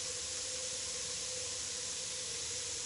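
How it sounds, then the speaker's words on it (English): Steam hisses steadily from a broken pipe in the Murder on the Orient Express video game, a loud, continuous broadband rush with a faint tonal hum underneath, lasting throughout with no pauses. "This must be where the steam is escaping."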